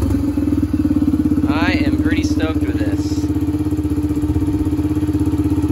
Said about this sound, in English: It's the first time it's actually been running, and yeah, and it's actually idling,